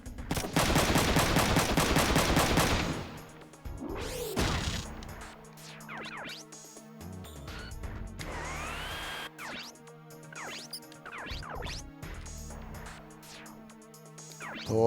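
Rapid machine gun fire from a brand new weapon in a run-and-gun shooter game, a loud dense burst for the opening few seconds, followed by quieter scattered in-game effects.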